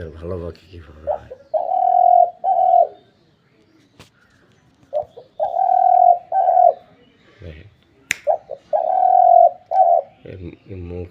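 A pet bird gives repeated loud, drawn-out cooing calls in three long bursts separated by short pauses, close by, with a couple of sharp clicks in between.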